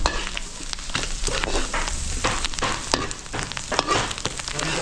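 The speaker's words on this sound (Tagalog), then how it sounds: "papupulayin ko lang yung bawang sibuyas na ito" Garlic and onion sautéing in a pan for Bicol Express at a catering kitchen in Capas, Tarlac, a loud close sizzle with frequent stirring clatters and no talking.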